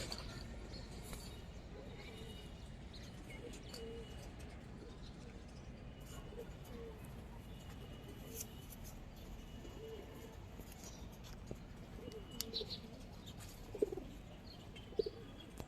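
Silver-coloured and army pigeons at a market, soft cooing and occasional chirps faint beneath a steady background hum and murmuring voices.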